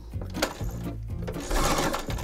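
A sewing machine running a reverse stitch on soft furnishing fabric, close and loud, its motor whirring in short bursts with brief pauses.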